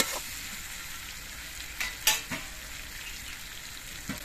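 Mango pieces for a sweet-sour pickle frying in a pan, a steady close sizzle with a few brief scrapes and taps of a stirring spoon.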